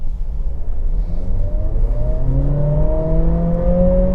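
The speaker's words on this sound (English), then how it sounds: "Okay, decent acceleration to get us going, not bad" A 2025 Acura ADX A-Spec crossover accelerating in sport mode with traction control reduced, heard from inside the cabin as a steady engine drone whose pitch climbs smoothly under low road rumble, with no one speaking.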